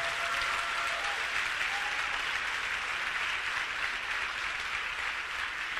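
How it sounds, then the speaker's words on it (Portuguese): A church congregation applauds during a sermon, a steady wash of dense clapping from a large crowd, even in loudness throughout with faint voices underneath. "Forte esse aplauso ao Rei da Glória."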